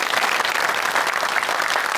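Audience at the Komediyaxana comedy show on stage applauding loudly, a dense, even wash of clapping from a large crowd that holds steady throughout.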